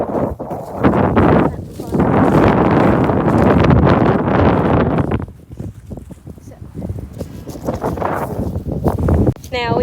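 Strong wind gusting on a hilltop farm, buffeting the microphone in loud roaring bursts that ease off partway through.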